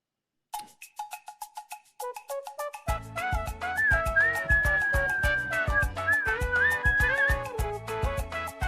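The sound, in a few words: whistling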